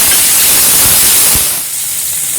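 Tomatoes tipped into a pan of golden fried garlic and onion for a Chettinadu-style kovakkai masala set off a loud, close hiss of sizzling that eases off and drops lower toward the end.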